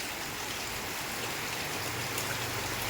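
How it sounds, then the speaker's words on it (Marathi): Steady rain pours down in an even, continuous hiss, with no voices. "आता हे पाऊस जात नाही"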